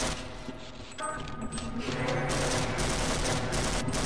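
Gunfire in Half-Life, rapid dense bursts of shots with mechanical clatter, continuous and loud throughout, close up.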